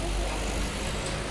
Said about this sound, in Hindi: अब बाहर में तो बहुत सारा आवाज़ हो रहा है गाड़ी का